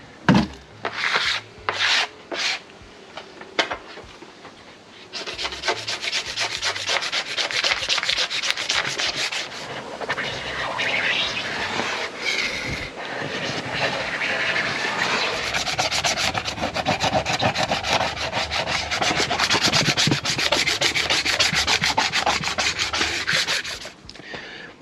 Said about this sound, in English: you can just brush the wax into a bin